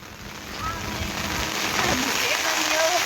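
Rain pours steadily onto surfaces in a monsoon downpour, a dense, even hiss that builds slightly in loudness, with faint voices talking briefly underneath.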